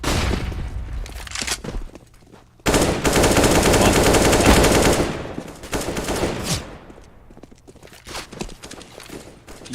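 Rapid automatic gunfire in a Counter-Strike esports match, loud bursts with a long sustained volley in the middle, then shorter sharp exchanges.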